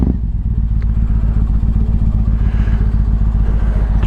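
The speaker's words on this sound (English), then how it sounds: "we're on a glorious and noisy MT-01 on a little commute in" A Yamaha MT-01 motorcycle on a short commute on a dry, gloomy day, its big engine giving a loud, steady, deep throbbing rumble that runs unbroken throughout with no voices.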